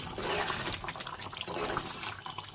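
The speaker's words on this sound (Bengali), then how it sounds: "এবার এই যে এখানে ইলেকট্রিক কেটলটাই জল গরম বসিয়েছি হয়ে গেছে নিয়ে এবার গরম জল দিয়ে দেবো" Hot water from an electric kettle poured into a pan of meat curry, a steady close splashing and gurgling stream lasting a few seconds without speech.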